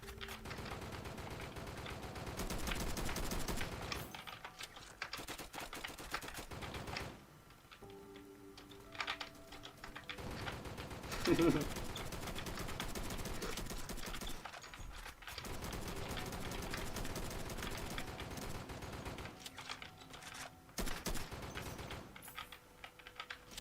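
A rifle fires in Flag Wars, with long stretches of rapid automatic shots in quick even bursts, broken by short pauses and reloads, fairly faint and steady across the whole stretch.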